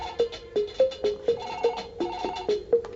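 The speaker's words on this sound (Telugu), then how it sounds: "ఫోన్ మోగుతుంటే ఎవరు తీరేంట్రా?" A melodic phone ringtone repeats in a steady looping pattern of bright chiming notes, sounding close and clear with no talking, in a Telugu comedy film scene.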